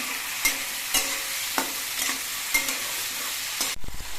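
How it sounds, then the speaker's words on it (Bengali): Karamcha fruit being stirred into hot oil with panch phoron, a soft continuous sizzle broken by about eight regular scraping strokes of a spatula, close and fairly quiet. "এবার এর মধ্যে আমি করম চাগুলো দিয়ে দিচ্ছি করম চাগুলো নিয়ে রেখে নিয়ে তেলের সঙ্গে ভালো মতো মিশিয়ে নিতে হবে"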